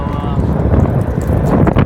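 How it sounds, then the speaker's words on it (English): Heavy wind buffets the microphone continuously, a loud low rumble that doesn't let up for the whole stretch. "it's pretty windy today"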